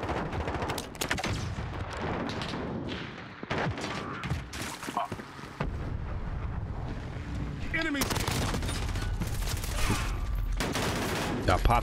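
Heavy gunfire in Call of Duty Modern Warfare multiplayer: dense, rapid bursts of automatic shots and loud blasts that run almost without pause, with a brief quieter stretch midway before the firing swells again.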